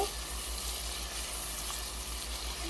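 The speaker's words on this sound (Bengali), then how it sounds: "মশলাটারে সমস্ত মশলা তেলের সঙ্গে খুব সুন্দর করে কষানো লাগবে" Spices sautéed in oil for an achari beef bhuna give a steady, even sizzle of moderate loudness, alone without talk, with a low hum underneath.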